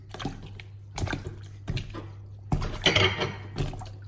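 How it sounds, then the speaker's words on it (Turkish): A hand stirs and whisks salted water in a bowl holding eggplant slices for eggplant kebab, making a series of sloshing, splashing bursts in uneven rhythm, close and clear with no talk. "dibindeki tuzu eritmek için elimle bu şekilde çırpıyorum"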